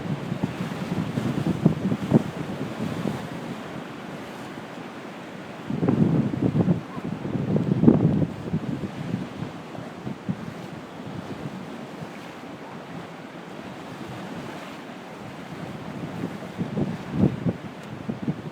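Hurricane Sandy's strong winds and storm surge waves churn the Hudson River at the West 79th Street Boat Basin in New York, 2012: a continuous roar of wind buffeting the microphone over sloshing surf, with louder gusts swelling midway and again near the end.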